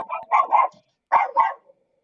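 A dog barks outdoors, two quick pairs of sharp, fairly close barks separated by a short pause.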